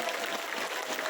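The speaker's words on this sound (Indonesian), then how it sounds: "Tepuk tangan dulu." Crowd applause at a Muslimat women's community gathering in Langensari, Ciamis, a dense steady patter of clapping filling the whole moment at even loudness.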